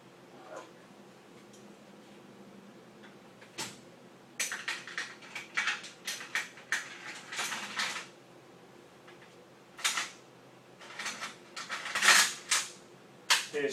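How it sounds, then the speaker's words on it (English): Metal parts of a rifle clack and click as the bolt is replaced during reassembly, with sharp irregular mechanical snaps growing busier midway and toward the end, close and fairly loud. "Replace the bolt in the weapon system."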